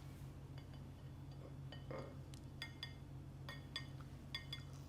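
Glasses clink in a toast, a scattering of light, bright chinks and taps spread irregularly over a quiet room background.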